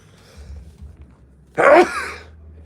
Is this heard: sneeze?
yes